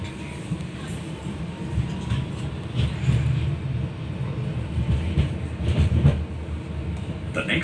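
Adelaide Metro tram moving along its line, a steady low rumble and rattle of the carriage heard from inside, with faint clicks and murmuring passengers in the background.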